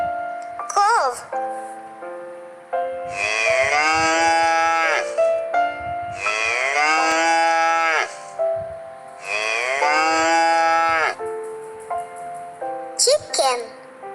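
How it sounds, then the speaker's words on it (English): A cow moos three times in long, loud, drawn-out calls at close range, with brief shorter sounds at the start and end. "Cow says"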